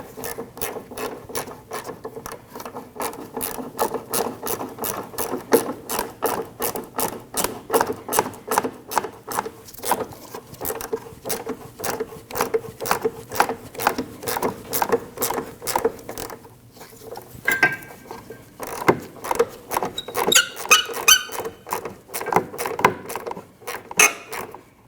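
A ratchet cranks a 12mm bolt tight on the rear suspension of a 2003-2008 Subaru Forester, producing a long run of rapid, evenly spaced clicks in bursts, close up and clear, with no voices.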